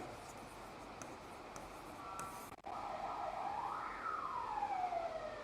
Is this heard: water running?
no